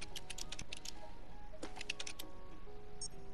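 Soft clicks as a cat taps keys on a door code keypad in the game Stray, a handful of light irregular taps over a quiet ambient hum, ending with a brief confirmation beep.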